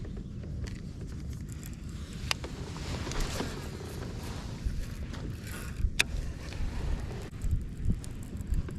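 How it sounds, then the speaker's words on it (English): Steady wind on an open lake in Tenoroc, Florida, rushing and buffeting past a kayak angler's microphone, with low gusty rumble and occasional small knocks and rattles throughout. "Wind's starting to pick up a little bit"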